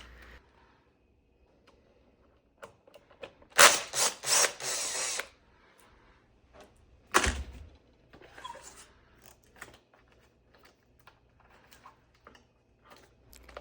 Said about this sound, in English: I just went ahead and started removing all the bolts that hold on the cover behind the battery